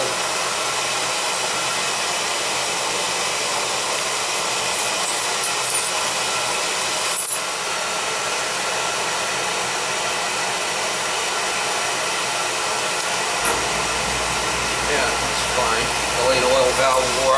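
A newly installed Beckett oil burner with a delayed oil valve fires up and runs, giving a loud, steady broadband roar that holds throughout, with a deeper rumble joining near the end; people talk faintly over it.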